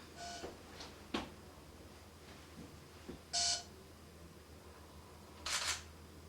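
Two short electronic beeps from a nearby device, separated by a couple of seconds, over a quiet room with faint scattered clicks.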